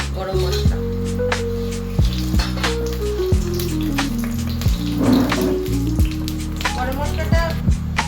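Whole garam masala dropped into hot ghee for a sago pulao, giving a steady, loud, close sizzle with crackling bursts and light clinks and taps over it.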